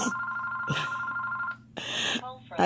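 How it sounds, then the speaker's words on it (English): A home landline telephone rings loudly in repeated electronic trills with a short pause between bursts, close by and clear, with no voice over it. "have to disconnect my whole phone, you guys, so it wouldn't be ringing"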